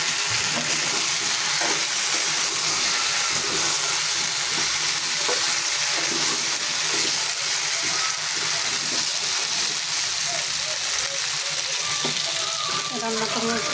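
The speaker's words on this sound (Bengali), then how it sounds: "রান্না করবো চিংড়ি মাছ দিয়ে।" Shrimp frying in a pan, a steady broad sizzle with stirring scrapes running throughout at close range, no voices.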